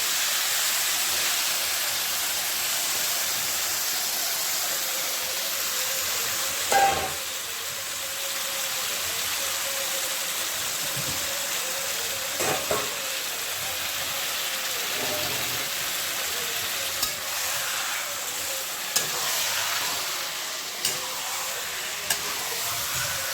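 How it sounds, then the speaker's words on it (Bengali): Meat frying in a little hot oil in a pan, a steady dense crackling sizzle held throughout with a few stirring clinks and scrapes, near and fairly loud. "অলরেডি গরম হয়ে গেছে তেল, অল্প তেল দিয়ে করছি মাংসটা, গরম যা পড়েছে। দিয়ে দিলাম মাংসটা।"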